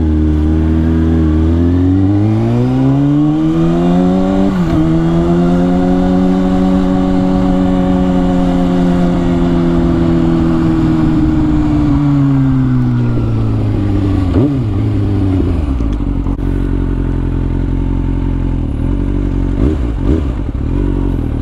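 A 2010 Kawasaki ZX6R 600cc sport bike engine hums steadily while riding, its pitch rising and falling through gear changes over constant loud wind noise, with no talk.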